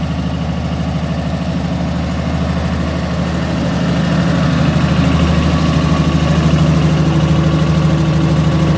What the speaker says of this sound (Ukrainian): Все працює генератор.